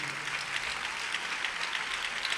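Steady clapping from a crowd of worshippers at a Holy Communion Sunday church service, a continuous, fairly even rattle of many hands that neither builds nor fades, heard alone without voices.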